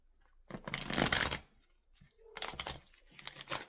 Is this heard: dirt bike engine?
no